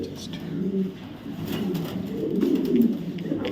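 Soft, low cooing from a large, light-coloured Super Billy bloodline racing pigeon with a race chip on its leg, continuous and close over a noisy backdrop.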